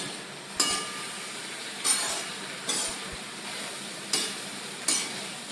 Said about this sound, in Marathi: हे व्यवस्थित ढवळून घेतलं की तिखट मीठ सगळीकडे लागतं